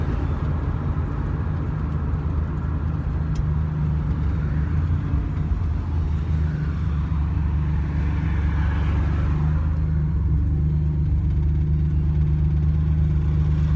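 A turbocharged Buick Grand National runs with a steady low engine rumble and drone from inside the car, constant and fairly loud, a mild rise in pitch midway.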